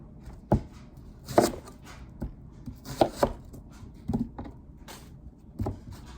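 A knife chops an onion on a cutting board in a home kitchen, with sharp irregular thuds spaced about a second apart, close and moderately loud.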